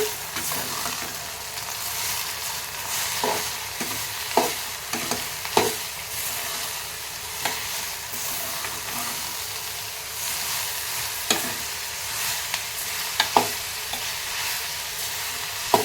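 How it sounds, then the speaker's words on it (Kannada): Beetroot frying in oil for beetroot palya, a steady close sizzle and hiss running throughout, punctuated by occasional clicks and taps of stirring. "ಇದು ಎಣ್ಣೆಲ್ಲೇ ಫ್ರೈ ಆಗಿ ಬಿಟ್ಬಿಟ್ಟು"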